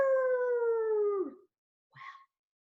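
Children's voices imitate a wolf howl in one long, steady, falling wail, followed after a pause by a short, softer vocal sound.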